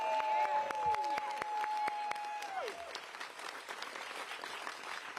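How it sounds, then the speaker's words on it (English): An audience at a New York City cultural budget announcement with Mayor Eric Adams breaks into sustained applause, dense clapping under a fading tonal whine, holding steady for several seconds. "give yourselves a round of applause"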